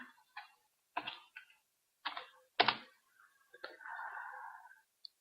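Computer keys are tapped in a few short separate bursts, then there is a longer run of typing and a single final key press, all close and fairly quiet in a silent room with no voices.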